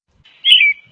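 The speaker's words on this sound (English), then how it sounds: "Robin." A single robin call: one short, clear chirp heard close and alone against silence, with faint ticks just before it.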